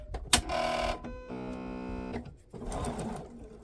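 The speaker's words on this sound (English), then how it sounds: "I'm using a piece of scrap fabric to be my lead, and I'm going to chain stitch." A sewing machine chain-stitches fabric squares for half-square triangles, starting on a scrap-fabric leader: a sharp click, then bursts of fast, close whirring stitching separated by a short pause and a higher humming stretch.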